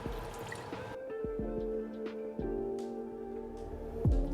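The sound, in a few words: sherry being poured into a pan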